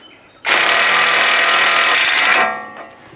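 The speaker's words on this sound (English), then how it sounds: "I'm gonna put the impact on it just for a second, just long enough to get it snug." An impact wrench snugs the drive axle nut on a 2005 Honda Odyssey during a CV axle replacement: one loud, continuous rattling burst of about two seconds, starting abruptly and then winding down, close by with no talk.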